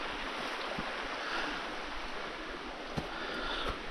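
The Pemi River's North Fork of the East Branch rushes steadily in a constant, soft wash of water noise, with a few faint knocks breaking through; no voices.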